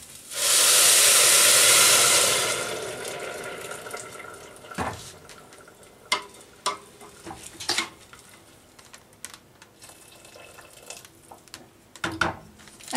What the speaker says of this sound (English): And then I add in boiling water.